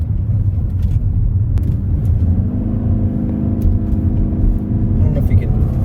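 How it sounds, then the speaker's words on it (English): A 2025 Toyota Crown Signia's engine drones steadily and loudly from inside the cabin while driving, a constant low rumble with road noise and no talking. "I don't know if you can hear that motor"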